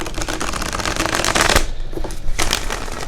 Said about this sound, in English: I'm going to use my Psychic Tarot deck by John Holland to pull the first few energies. So let's give it a shuffle